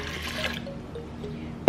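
Plain water, 650 ml, being poured from a beaker into batter for Thai coconut rice pancakes, a steady close liquid splash that softens into a quieter trickle over under two seconds, with no voices.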